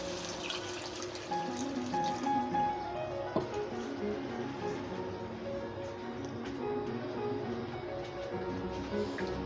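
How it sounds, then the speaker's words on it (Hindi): Water is poured from a glass into fried masala in a pan while making egg kofta curry gravy, giving a soft, steady splashing and trickling sound that stays fairly quiet throughout. "अब इसमें हम पानी डालेंगे।"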